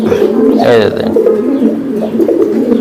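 Racing pigeons coo in low, throaty rolling calls, close and loud, with a person's voice mixed in.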